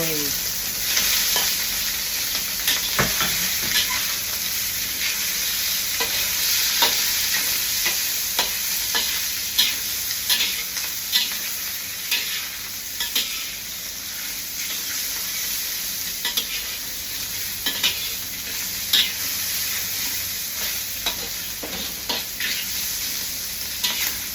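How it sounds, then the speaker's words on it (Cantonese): Oil sizzles and crackles steadily in a hot wok, with frequent sharp pops and spatters and no talking. "好，隻鑊到細熱啦，咁咪落啲鮮油落去。"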